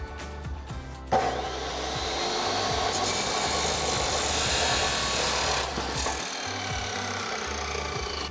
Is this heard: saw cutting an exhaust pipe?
yes